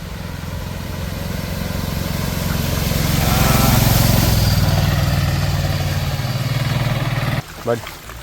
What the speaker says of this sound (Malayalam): അവിടെ സ്കൂട്ടി ഒരു സ്കൂട്ടി വരും നോക്ക് അവിടെ